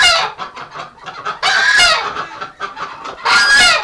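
Female ducks and geese calling in a winter duck pen, a loud run of rapid, motor-like quacks and honks in close repeated bursts, with no talking.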